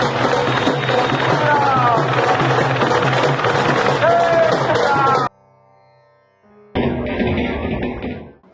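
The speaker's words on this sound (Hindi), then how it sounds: "बिहार के बक्सर में श्री राम की कर्म भूमि बक्सर में हेलीकॉप्टर से पुष्प वर्षा की जाती है" Helicopter showering flowers over a crowd at Buxar, Bihar: a loud, continuous rotor and engine roar mixed with crowd noise and voices, cut off by a brief near-silent gap before resuming.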